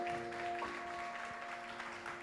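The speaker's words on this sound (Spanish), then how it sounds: "¿Cuántos le dan un aplauso a Dios por eso? Aplaude a Dios fuerte." Faint congregational applause in a church service, a soft continuous patter beneath sustained keyboard tones.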